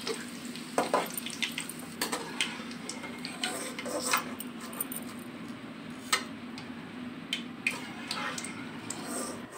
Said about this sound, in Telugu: ఒక 2 రెబ్బల కరివేపాకును కూడా అదే ఆయిల్లో వేసి ఫ్రై చేసుకోవాలి